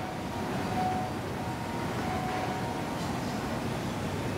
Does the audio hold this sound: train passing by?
yes